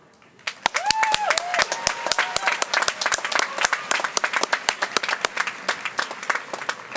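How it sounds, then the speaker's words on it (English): A large crowd of students at a Brown University convocation claps steadily for several seconds: dense, sustained applause with a brief voice rising near the start. "give yourself a round of applause before we sing the alma mater"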